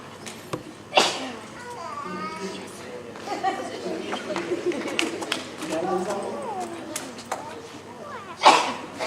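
A short, sharp sneeze bursts out near the end during a school honor society certificate ceremony, following an earlier similar burst, with people talking and murmuring throughout.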